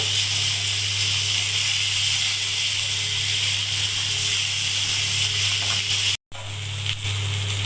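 Shol (snakehead) fish sizzling in hot oil in a kadai, a continuous close hiss that stays loud and steady, broken by one short dropout near the end.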